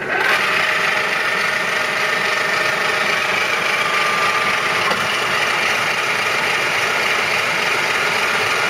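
A Union BFT125/5 horizontal boring and facing machine runs at 112 RPM, holding a steady mechanical hum with a faint whine and light vibration, constant in level throughout with no voices.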